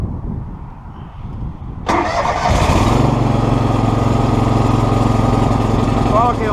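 Zero-turn mower engine, freshly swapped, starting up and then running steadily at a loud, close idle, with a rough mechanical clatter before the start.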